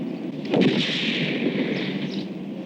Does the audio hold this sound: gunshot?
yes